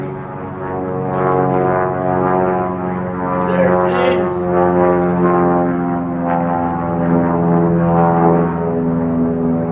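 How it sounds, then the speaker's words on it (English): A small propeller plane drones overhead, its steady buzzing hum holding loud and constant, with people talking briefly underneath. "Little airplane flying over."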